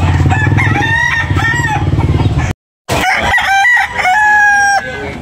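Roosters crow loudly and close at a chicken market in Tabunok, Talisay, Cebu, several long strained calls overlapping, with clucking and a brief cut to silence midway.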